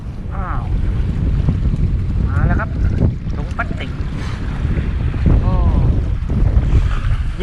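Gusty wind buffets the microphone at the shoreline during squid fishing, with waves washing in and a voice speaking at moments over the steady roar.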